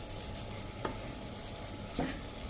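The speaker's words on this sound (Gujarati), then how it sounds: "આ રીતે આપણે થોડીક વાર આ જ રીતે એને કૂક થવા દેશું એટલે સરસ શાક વઘાર સાથે ખીચડી કૂક થાય." Khichdi with vegetables and tempering cooks in a pot, giving a faint, steady sizzle with a couple of soft stirring scrapes against the pot, no voices.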